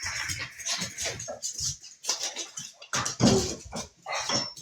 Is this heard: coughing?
no